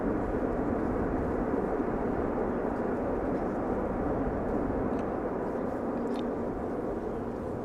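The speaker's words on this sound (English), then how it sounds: "one of the few airplanes this morning that we are hearing with thrust reversers being applied" A landing airliner at Amsterdam Schiphol Airport applies thrust reversers, giving a loud, sustained broadband engine roar that holds steady throughout with no talk.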